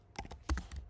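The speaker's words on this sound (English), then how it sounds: "so basically I'm just typing." A few close, crisp keystrokes on a computer keyboard come in an uneven quick burst of clicks, with nothing else around them.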